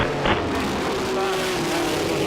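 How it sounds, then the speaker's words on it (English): A BMW M1 Procar race car drones past at a vintage race reunion, a loud steady engine tone sliding slightly in pitch under constant track noise. "That's BMW M1 Pro car."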